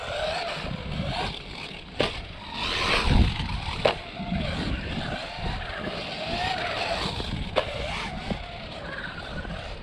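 A brushless 1/16 scale RC short course truck drives with whining motor and scrabbling, squealing tires, with repeated skids and sharp knocks over a steady outdoor background and no talking.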